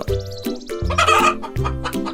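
A cartoon chicken in an animated story clucks loudly and close, giving several short, choppy calls in quick succession with no other sounds around it.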